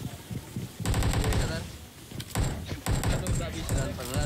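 Rapid automatic gunfire bursts from the PUBG Mobile battle royale game, loud and close, coming in several clusters with short gaps and overlapped by scattered voices.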